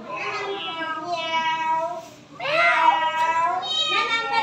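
A child imitates a cat's meow with several drawn-out, wavering mews, loud and close, with a short pause partway through and no other talk.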